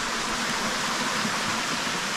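At the upper part of Achakanya waterfall near Thirthahalli, Karnataka, rushing water makes a steady, even hiss of broadband noise that fills the whole moment without pause or speech.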